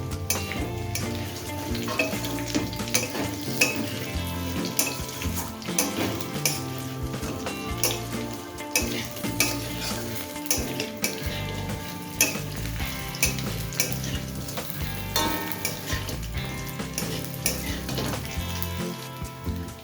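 Fried chicken pieces tossed with garlic and curry leaves in a hot pan for restaurant-style chicken 65, a loud continuous sizzle with rhythmic scraping and clinking of the spoon against metal throughout.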